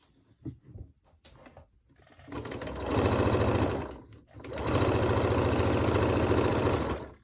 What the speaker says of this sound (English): So first you'll sew it to one side, then you'll sew it to the other side.